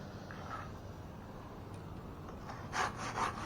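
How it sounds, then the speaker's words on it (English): Faint back-and-forth rasp of a handsaw cutting an oak tree limb outdoors during tree removal, with soft strokes that grow a bit louder near the end. "I just handsaw this one too."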